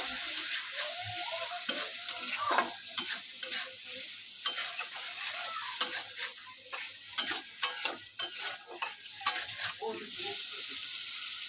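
Spices and chopped tomato stir-fry in a pan, giving a soft continuous sizzle with repeated scraping and clattering stirs throughout.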